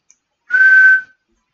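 A single steady whistled tone from a person practicing whistling, clear and close, held for about half a second after a tiny click, with silence around it.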